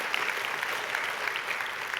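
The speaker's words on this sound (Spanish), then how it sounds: "Dale un fuerte aplauso al Señor" A church congregation claps loudly and steadily, a dense, even wash of applause from the crowd filling the whole stretch.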